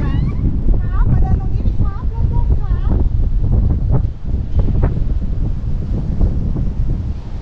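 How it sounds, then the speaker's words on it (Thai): Strong wind buffets the microphone on a quiet beach behind a resort at Chao Samran, a loud steady roar with gusty low rumble throughout, while people talk over it. "ลมแรงเนาะ"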